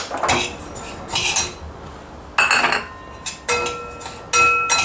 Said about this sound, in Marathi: हे जवस आहे हे आपण भाजून घेऊया